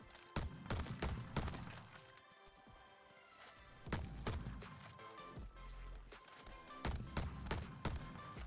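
A sentry turret fires in a video game, loosing repeated bursts of rapid, punchy shots in clusters separated by short pauses, loud and close.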